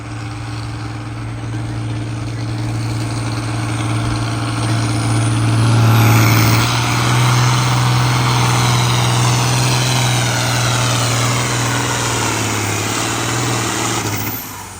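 A tractor engine in the Light Limited Super Stock class runs at a tractor pull at Cuba City, with Logan Spearbox driving. It gives a loud, steady, close drone with a strong low hum that swells slightly midway and holds throughout.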